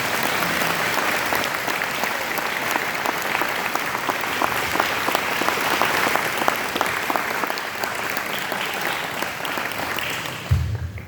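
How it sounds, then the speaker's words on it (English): Steady applause from a crowd at a leadership award ceremony, many hands clapping continuously for about ten seconds at a moderate, even level. "Can you give Sister Marguerite a round of applause?"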